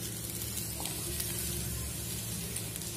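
Garlic roasting in a pan alongside tamarind for a ridge gourd peel chutney, a quiet, continuous soft sizzle with faint stirring scrapes.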